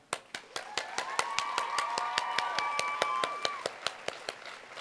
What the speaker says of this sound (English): please take a moment to applaud and show gratitude to all of them.